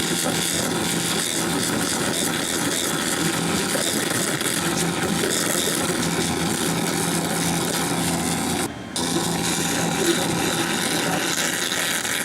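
A laser cleaner running at 70% power strips powder coat paint from aluminum, making a loud, steady broadband hiss and whine that holds nearly unbroken, with one brief dropout near the end.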